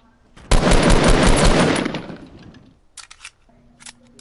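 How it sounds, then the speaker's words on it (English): A sustained burst of rapid automatic gunfire in a PS4 shooter, loud and close for about a second and a half, then fading into a few scattered distant shots. "They're shooting at us."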